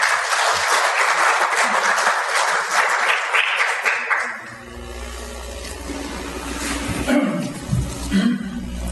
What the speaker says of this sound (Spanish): Vamos a recibirlo con un voto de aplausos.